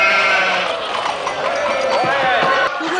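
Sheep bleat continuously over a dense, busy background, with several animal voices overlapping, in the 1974 film Chinatown.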